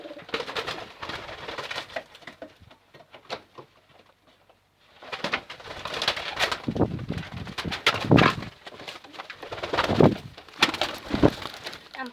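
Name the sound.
pigeons cooing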